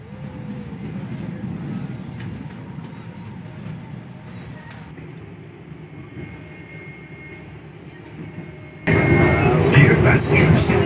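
Logawa passenger train pulling out of Surabaya Gubeng station bound for Jember, heard as a steady low rolling rumble with faint background voices that swells abruptly louder near the end.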